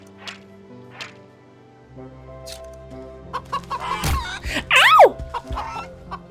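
A goose in the video game Wytchwood honking and squawking in a few sharp, loud bursts that build toward the end, preceded by softer scattered clucks and game sounds.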